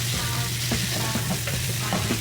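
Vegetables with celery, garlic and onion stir-frying in a pan, a dense close sizzle with a few soft scraping stirs and a low steady hum beneath, brief and uninterrupted by talk.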